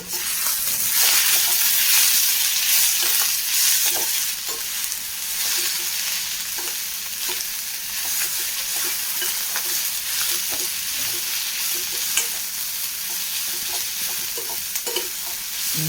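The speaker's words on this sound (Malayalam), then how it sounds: "നന്നായി ഇളക്കി കൊടുക്കാം." Crushed Kashmiri chili gets stirred into a white chickpea roast in a pan, with a continuous close sizzle and hiss of frying and soft scraping strokes of the spoon repeating throughout.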